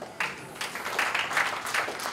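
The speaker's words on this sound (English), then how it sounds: "Applaud yourself." Conference audience at a gender studies event clapping together, a sustained, moderately loud patter of applause from a crowd that swells in waves and continues without pause.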